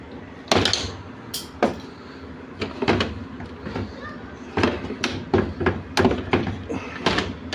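Plastic clicks, snaps and knocks come in irregular bursts as the door cover is pried off an automatic washing machine at close range, with a voice talking over the work.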